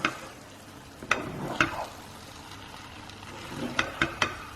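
A spoon stirs chicken rice in a single pot for chicken pulao, giving a few sharp scraping knocks against the pot over a faint low sizzle, spaced irregularly with quiet gaps.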